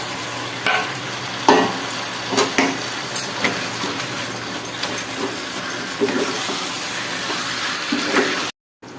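A fish head sizzles and is stirred in spiced masala with oil for a chickpea-dal fish head dish, with steady frying hiss and intermittent scraping stirs throughout.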